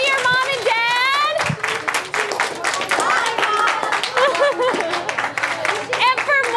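Nimitz Middle School students applaud after an alkali metals science demonstration, scattered clapping mixed with excited young voices chattering and calling out close by.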